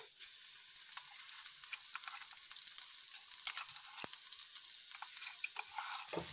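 Pea and spinach appe mixture with carrots roasting and being stirred in a pan, a steady soft sizzle with scattered light scraping clicks throughout, no talking.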